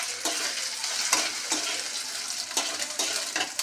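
Whole cumin seeds sizzle steadily in hot oil with ginger already in the pan, a dense continuous crackle with brief louder bursts of spattering, close and alone with no voices.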